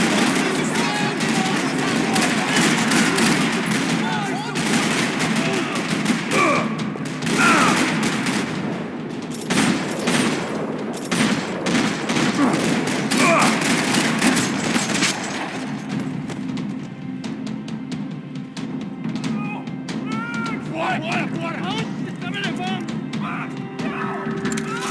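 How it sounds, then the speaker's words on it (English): Dense gunfire rattles through a parking lot in the video game Max Payne 3: rapid automatic bursts and single shots with crashes and impacts, loud and continuous, with voices shouting over the fight. "Another parking lot rattling with gunfire."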